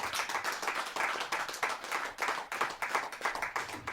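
An audience at a Hindi poetry recital claps for the poet Dr. Praveen Shukla, a fairly soft, rhythmic patter of many hands swelling and easing in waves throughout, with no voices.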